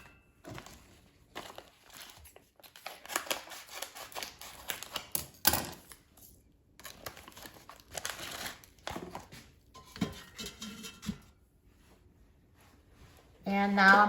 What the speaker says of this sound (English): So take them out of this packaging.